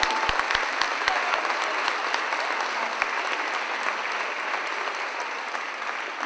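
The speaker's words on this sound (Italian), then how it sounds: "loro veramente meritano un applauso" A concert audience at the Christmas concert "Natale Incanto" breaks into sustained applause, a thick continuous patter of many hands with a few louder close claps at the start, steady for several seconds with no speech.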